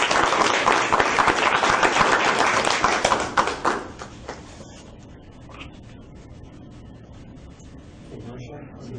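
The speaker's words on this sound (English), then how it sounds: "About a round of applause for Marcia" A school board meeting audience applauds for a few seconds, a moderately loud patter of many hands that dies away into quiet room noise with scattered taps and shuffling.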